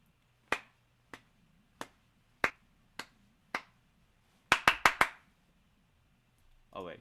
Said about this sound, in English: go ahead and just clap along with the beat